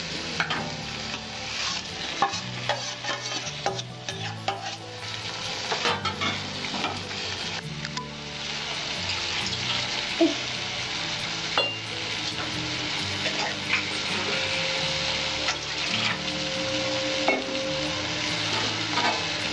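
Potatoes tossed into sautéed peas in a pan for an aloo matar curry, with continuous sizzling and frying crackle broken by frequent scraping and stirring clatter, steady and close throughout.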